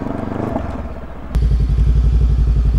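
A Bristol Venturi motorcycle engine strains and labors on a ride, a low rumbling drone that jumps suddenly louder and heavier partway through, then pulses steadily with a rough, throbbing beat close to the rider.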